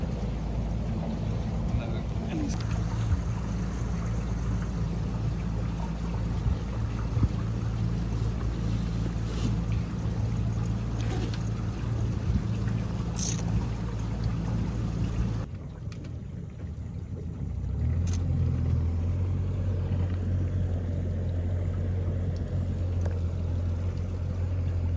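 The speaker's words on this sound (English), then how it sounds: "We are on the boat cruise, guys." Steady low engine drone of a cruise boat under way, with wind and water wash throughout and faint voices in the background.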